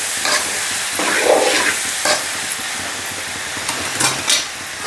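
Prawn and brinjal curry with salt being stirred in a pan, a loud close frying hiss with several scraping, clinking spoon strokes against the metal.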